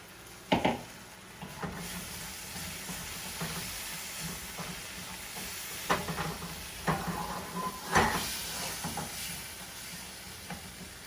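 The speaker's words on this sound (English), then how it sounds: "So I'm just about to stir it." Chicken for tacos cooks in a pan and is being stirred: a steady, soft sizzle and hiss carries throughout, broken by several sharp scraping clicks of the utensil, with no talking.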